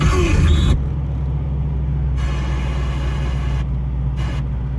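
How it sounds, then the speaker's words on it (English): A Corvette Grand Sport engine idles after a cold start in cold weather, a deep steady rumble holding close and loud, preceded by a brief rougher burst at the start. "This is a real cold start."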